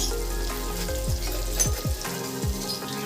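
Ground spices with ginger paste, Kashmiri chilli powder, turmeric, cumin, coriander and poppy seed paste frying in a pan for an Indian potato-cauliflower curry, a close steady sizzle with a few quick stirring scrapes and no speech.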